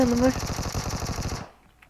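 Rapid automatic gunfire from the PUBG Mobile video game rattles in a steady stream of close, loud bursts for about a second and a half, then cuts off. A voice is briefly heard at the start.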